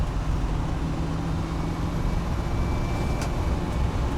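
A 1998 Land Rover Defender 90 with a 300Tdi diesel engine driving on a road at speed, a steady droning engine and road rumble heard from inside the cabin, continuous and fairly loud, with no speech.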